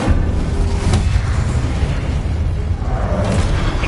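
A loud, rumbling burst of fire from the Incendio spell booms in Hogwarts Legacy, a continuous deep roaring blast with whooshing edges that lasts the whole moment.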